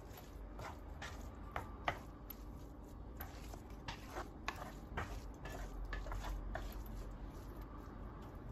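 Rice pilaf stirred with a spoon in a hot pot, giving a quiet stretch of soft scraping and scattered light clinks and scrapes at an uneven rhythm over low background noise.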